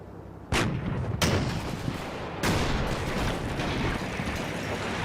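Heavy gunfire and artillery in the Combat Mission: Battle for Normandy war game: three sharp, loud blasts hit in sequence, each followed by a long rumbling roar of continuous fire and explosions.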